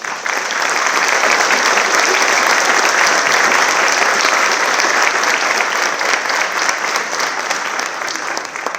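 Steady, dense applause from the audience at a student award ceremony, loud and continuous throughout with no talking over it.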